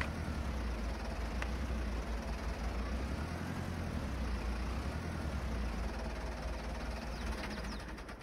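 A tractor engine idles steadily on a farm, a continuous low, even rumble with no change in rhythm and no voices, easing slightly at the very end.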